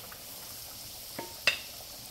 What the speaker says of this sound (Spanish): ahora sí nos vamos a ir para el sartén, porque yo ya tengo listo mi aceite caliente para poner nuestro, nuestra salita de pollo